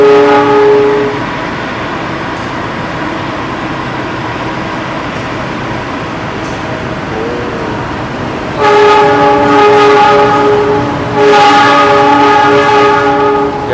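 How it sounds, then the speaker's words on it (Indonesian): A train hums at rest at a station platform in Indonesia with steady tonal drones, then a loud horn-like tone sounds twice in bursts, against a background rumble. "Di jalur 1 ada kereta api."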